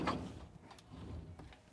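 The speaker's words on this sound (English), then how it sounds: "Also, you have a sliding door here." A sliding door on a Fjord 490 Open boat slides along its track, giving a quick opening scrape followed by softer rolling and light knocks, close and fairly quiet.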